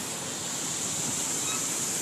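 A waterfall in Rock Creek Park gives off a steady, broad rushing wash of water that holds an even level throughout, with no voices.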